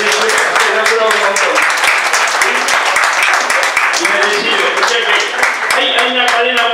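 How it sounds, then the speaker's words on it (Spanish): Applause for Ana at an awards ceremony, loud, close, continuous clapping from a room of people, with individual claps crisp and distinct, along with some voices underneath. "merecedora de un gran aplauso. Ana, un aplauso."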